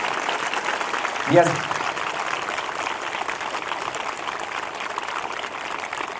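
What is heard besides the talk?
congregation applause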